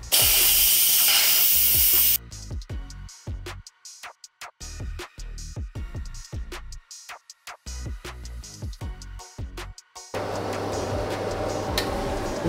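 An Instant Pot pressure cooker vents steam through its release valve after cooking chicken tikka masala: a loud, steady hiss bursting out, then broken into sputtering spurts and clicks, before a strong continuous hiss returns.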